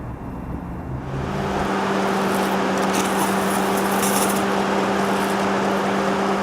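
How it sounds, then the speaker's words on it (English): Headlight washers on a Bentley Mulsanne spray in a steady hissing rush that starts about a second in and holds evenly, with a low hum running underneath. "Another cool Mulsanne detail, that would be the headlight washers."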